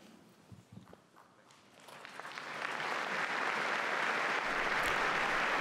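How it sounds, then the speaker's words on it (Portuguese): Applause from roughly 3,000 people at a papal general audience in the Paul VI Hall, starting from a few scattered claps after quiet and swelling over two seconds into a loud, sustained roar of clapping filling the large hall. "E os aplausos, então, dos cerca de 3 mil presentes na sala Paulo VI"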